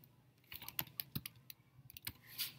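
Rapid keystrokes on a computer keyboard while a name is typed into a calendar search box, a close, crisp run of irregular clicks with brief pauses.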